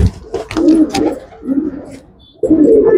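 A pet pigeon coos in several close, loud bursts, the throaty rolling calls separated by short pauses, with no talking over them.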